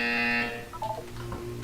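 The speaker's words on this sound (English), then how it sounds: "You will hear a buzzer." Video game buzzer from Portal 2, a loud steady harmonic electronic tone holding for under half a second before cutting off, followed by fainter tonal blips and low background hum.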